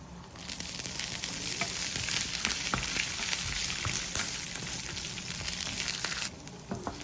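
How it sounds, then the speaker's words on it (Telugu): Peanuts, garlic cloves and green chillies frying in a pan for Andhra-style ridge gourd chutney, a steady close sizzle and crackle running on alone without pause before easing off briefly near the end. "పల్లి కొంచెం వేగాక 4 నుంచి 5 వెల్లుల్లి రెబ్బలు, మీ కారానికి తగ్గ పచ్చిమిర్చి వేసి వేపాలి."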